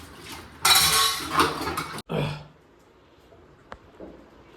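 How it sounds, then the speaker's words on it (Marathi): Dishes, pots and utensils are scrubbed and washed by hand, producing a burst of clattering and scraping clinks, a short pause, then another rattle and a single faint clink. "आणि आम्ही घासतोय भांडी."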